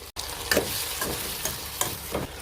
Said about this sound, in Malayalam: ഇതിലേക്ക് അല്പം തിളച്ച വെള്ളം ഒഴിച്ചു കൊടുക്കാം